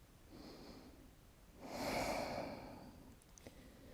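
A person slowly exhales during a relaxation exercise, one audible breath swelling and fading over about a second, quiet and close in a calm room.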